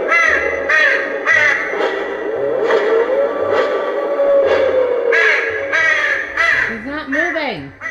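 A Halloween animatronic crow decoration gives repeated loud, harsh caws with a whirring mechanical hum beneath, close by, while people talk over it.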